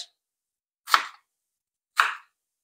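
Two separate knife chops through onion on a cutting board, spaced about a second apart, crisp and close with silence between, while making Filipino escabeche of golden trevally.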